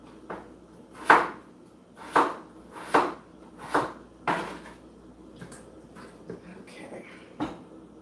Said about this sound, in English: I'm done chopping.